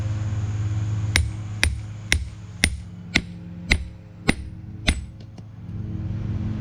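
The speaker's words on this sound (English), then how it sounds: "I'll do that with the hot chisel like I talked about earlier." A hammer drives a hot chisel through hot steel during hand forging, giving about nine sharp, ringing metallic strikes at an even pace over a low background hum.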